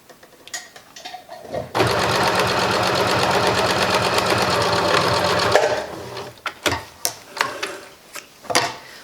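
A sewing machine runs in one steady, fairly loud burst of stitching along a shoulder bag seam, with quieter mechanical clicks and handling before and after.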